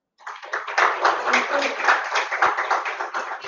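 Audience clapping at a school annual function, a steady wash of many hands applauding that starts abruptly and holds strong throughout.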